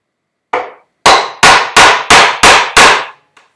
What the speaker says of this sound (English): I can drop my chisel in that knife line.